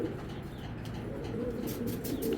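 A Belgian red fox line racing pigeon coos softly in low, rolling phrases, close by, with faint chirps and rustling around it.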